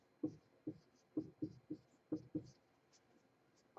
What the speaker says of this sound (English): Let's see if I can still write on the board in here.